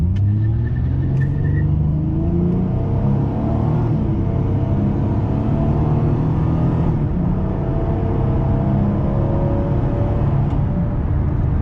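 A 2007 Ford Mustang V6 accelerating hard from a standstill to about 70 mph, a loud, continuous engine roar with rising pitch heard from inside the car.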